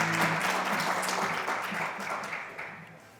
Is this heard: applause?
yes